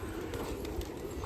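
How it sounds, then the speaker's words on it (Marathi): Pigeons in a 40-year-old loft on Subhash Road, Nashik Road, with soft rustling, shuffling and faint bird sounds at a steady low level. "कबूतर आहे"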